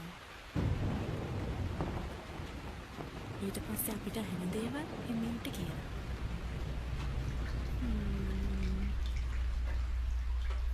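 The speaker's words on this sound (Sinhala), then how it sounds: "අපි දෙන්නම එකතු වෙලා වැස්ස අහගෙන ඉන්නවා" Steady rain falling with a low thunder rumble in the background, constant and fairly faint, while people talk quietly over it throughout.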